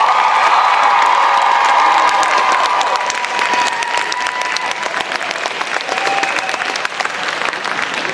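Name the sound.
audience applause at cosplay masquerade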